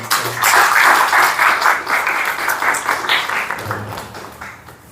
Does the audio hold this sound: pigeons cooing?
no